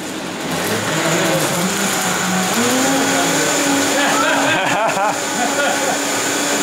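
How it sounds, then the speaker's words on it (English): A blender whirs steadily and loudly close by, its motor pitch rising as it runs, while people chatter over it. "Let's start the blender up."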